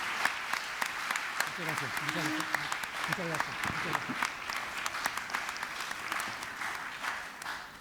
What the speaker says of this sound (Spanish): brindándole un fuerte aplauso, por favor